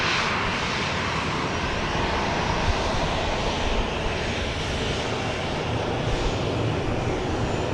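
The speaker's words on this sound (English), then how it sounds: "Got another flight coming in, this one from Phoenix" A Boeing 737 MAX 8 airliner arrives at Dallas Love Field at night. Its engines make a steady, broad roar that stays loud throughout with no talk over it.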